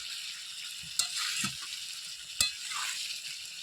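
Goat meat sizzles steadily in oil while being stirred, with a couple of sharp scraping clacks from a spatula against the pan.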